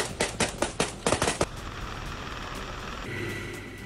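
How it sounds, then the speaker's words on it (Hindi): Rapid bursts of machine gun fire in a village near Bakhmut during the Russia-Ukraine war crack out in quick rhythmic volleys for about a second and a half, then fade into a low ambient rumble. "यूक्रेनी सैनिकों ने अंधाधुंध गोलियां बरसाई"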